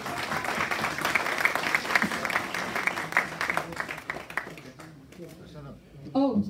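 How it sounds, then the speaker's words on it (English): An award ceremony audience claps in a round of applause that is moderately loud at first and then thins out and fades toward quiet, with a voice briefly heard near the end. "Please welcome them with a round of applause"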